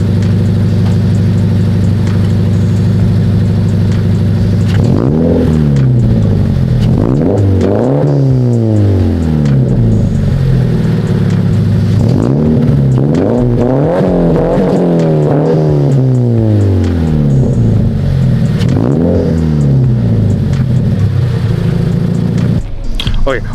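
A Subaru BRZ with a custom single-exit straight-pipe exhaust idles loudly, then revs repeatedly in rising and falling sweeps, close and raspy throughout the long stretch.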